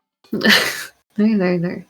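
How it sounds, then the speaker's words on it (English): Two short sharp bursts, the first a sneeze-like explosive sound and the second a voiced exclamation, close and fairly loud with a brief pause between them. "Was that a sneeze?"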